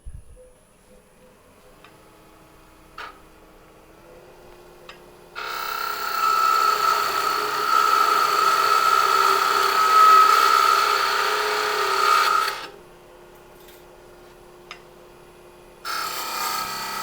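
A parting tool cuts into a wooden drawer pull spinning on a lathe, giving a steady, loud scraping whine that runs for several seconds and then stops, with faint clicks and a quieter machine hum before and after.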